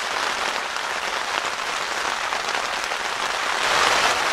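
Steady rain drums on a camping tent in the New Jersey Pine Barrens during a thunderstorm, a dense, even hiss that holds throughout and swells slightly louder near the end, with no voices.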